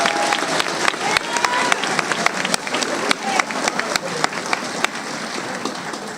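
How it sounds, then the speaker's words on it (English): A crowd applauds graduating students at a 2022 high school graduation ceremony. The dense, steady clapping fills the hall and carries a few sharp individual claps throughout. "Can we give them one round of applause?"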